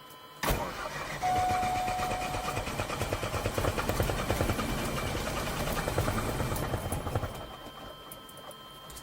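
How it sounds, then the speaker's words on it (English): A student pilot cranks the engine of a small training aircraft. The engine catches abruptly and settles into a loud, steady, rough-running drone with a bit of sputter, then the level eases off near the end. "I was rushing to get the engine started and cranked the mixture in before the prop catched"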